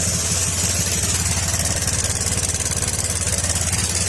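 A noisy Honda Click 150 scooter engine idles nearby with a steady, rapid mechanical ticking pulse and constant low rumble throughout.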